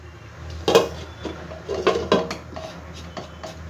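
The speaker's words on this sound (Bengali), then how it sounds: "এবার আমি একটু ঢাকনা দিয়ে দেবো" A metal lid is set onto a cooking pot of egg keema curry masala, giving a few close clanks and rattles, one sharp knock followed by a small cluster of lighter metallic taps.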